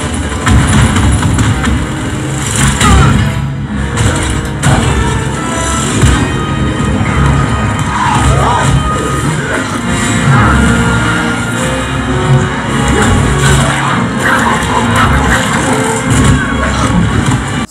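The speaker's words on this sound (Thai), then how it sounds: "นี่คือเสียงหนังนะฮะ" Movie soundtrack played loudly through a Ceflar M-1211 soundbar with subwoofer, a dense, continuous blend of rumbling effects and crowd-like noise filling the room with strong bass.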